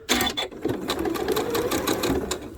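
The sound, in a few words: sewing machine sewing half square triangles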